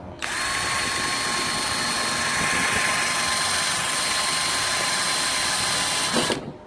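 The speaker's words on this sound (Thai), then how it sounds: "ตอนนี้ใช้ดอกเจาะไม้ขนาดกลางที่ให้มานะครับ เดี๋ยวเราเจาะไม้ดูนะ" A Berala cordless drill fitted with a medium wood bit runs at high speed into wood, a loud continuous whine lasting about six seconds before stopping abruptly.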